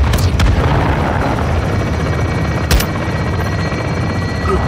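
Helicopter gunship firing on a marked target in Call of Duty Modern Warfare II: a loud steady rotor and engine roar throughout, punctuated by a few heavy booming impacts near the start and another midway.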